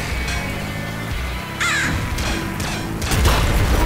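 Crow enemies cawing in the video game Nuclear Throne, several harsh caws rising over a dense layer of game music and effects, loud and close.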